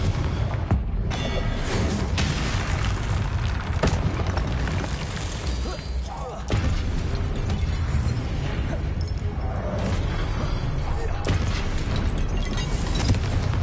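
Booming Confringo fire-blast spells explode again and again in the Hogwarts Legacy video game, a dense crash-filled roar under continuous game effects, with a brief dip in the middle.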